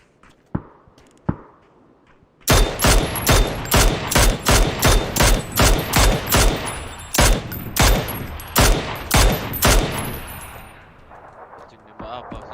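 Loud, close gunfire in a ranked shooter match: two isolated shots, then a long string of rapid bursts in steady rhythm that thins out toward the end, with a voice talking over parts of it.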